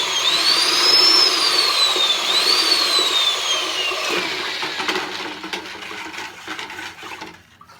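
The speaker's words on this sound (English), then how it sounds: "Give this blue a quick mix. This is my old ancient Milwaukee drill." An old Milwaukee electric drill whirs steadily as it mixes a bucket of blue pottery glaze, a high whine rising and dipping in pitch over churning sloshing noise, then winding down and fading near the end.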